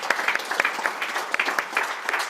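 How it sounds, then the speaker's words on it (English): An audience at the Scottish Wildlife Trust AGM 2025 applauding, a dense, even patter of many hands clapping at close range for the whole stretch. "I think we should give a round of applause"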